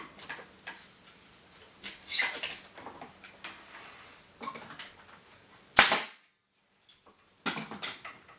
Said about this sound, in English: And now I can go ahead and secure it with the finish nailer.